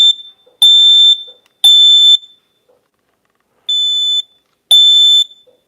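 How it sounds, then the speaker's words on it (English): Home smoke detector under test sounding loud piercing electronic beeps in separate bursts of about half a second each, with silent gaps between them and no voices. "So that's the sound your smoke detectors are going to make."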